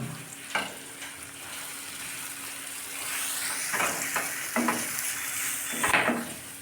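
Ground cumin, coriander and red chilli masala frying in a pan with a little water, a steady sizzle broken by several bursts of spatula scraping and stirring against the pan.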